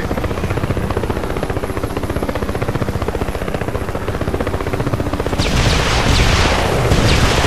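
Helicopter rotor thumping steadily from a military chopper in The Expendables 2 Xbox 360 game, loud and continuous, with a burst of gunfire or explosive noise joining near the end.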